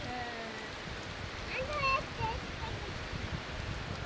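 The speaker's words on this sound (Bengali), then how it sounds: "মুসুল ধারে বৃষ্টি হচ্ছে দারুণ বৃষ্টি হচ্ছে" Heavy rain pours down in a dense, even roar of broadband hiss, with a few faint tonal sounds rising briefly near the middle.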